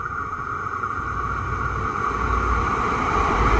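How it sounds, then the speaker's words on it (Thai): A steady mechanical rumble with a sustained metallic hum from the rails builds gradually in loudness as a Thai train approaches Bo Takhro station. "โอ้โหเสียงรางนะ"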